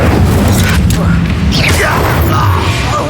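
The Incendio fire spell is cast in Hogwarts Legacy: a loud, dense burst of fiery roar with sweeping whooshing tones rising and falling over a rumbling low end, lasting throughout.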